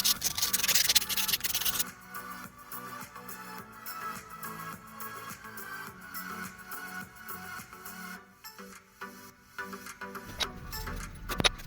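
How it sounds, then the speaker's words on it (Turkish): Steady rubbing and rasping of sandpaper against rusted metal door handle and lock parts, repeated strokes close up, with a brief louder scraping burst at the start. "Diğer parçalarını ve kapı kilidini aynı şekilde zımparayla temizliyoruz."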